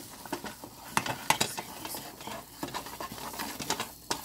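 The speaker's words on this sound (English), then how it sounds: "I'm going to mix this quickly with the 2 tablespoons of flour until it becomes a solid." Flour being stirred quickly into melted butter in a pan for a roux, close soft scraping and tapping strokes in an uneven rhythm over a faint sizzle.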